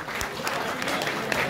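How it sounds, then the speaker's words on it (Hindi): Audience clapping at a large YouTube creators' gathering in India, a steady dense wash of applause filling the hall with a faint murmur of voices underneath. "एक बार अमरीश भाई के लिए जोरदार ताली बजा दीजिए।"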